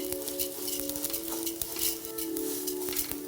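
Ingredients for Hyderabadi biryani frying over a low flame in a pan, with a soft continuous sizzle, light stirring scrapes and occasional utensil clinks over a steady background hum.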